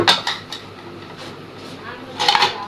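A metal lid clinks and rattles onto a cooking pot, with a couple of short clanks at the start and another cluster near the end, under faint room noise.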